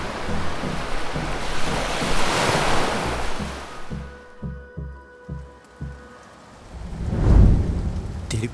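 Heavy rain in Trincomalee, a loud, dense wash of falling water that eases partway through into a few low rumbles and then swells again near the end.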